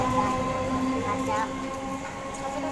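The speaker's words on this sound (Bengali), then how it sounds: "ট্রেনটা চলে গেল, বাড়ি চলে গেল।" A train passes by at close range, a steady rumbling roar with humming tones running throughout, while a parent talks to a small child beside the track.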